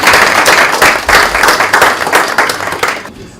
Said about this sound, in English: I think we will clap for